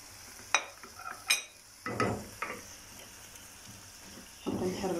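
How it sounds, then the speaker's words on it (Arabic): A utensil stirs tomatoes, peppers and spices in a pan, giving several separate scraping clinks against the metal over a faint, low sizzle. "نحركوا كل شيء مزيان"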